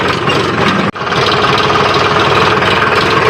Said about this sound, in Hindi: ट्रैक्टर तो खेत में पहुँच चुका है दोस्तों कटाई के लिए